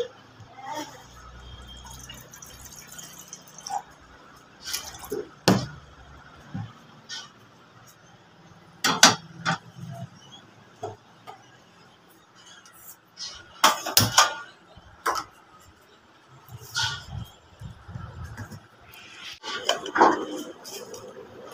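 Kitchen clatter of pots, cutlery and water while tea is being made, with scattered sharp clinks and knocks of dishes and short pouring or dripping sounds, fairly close, separated by quiet stretches.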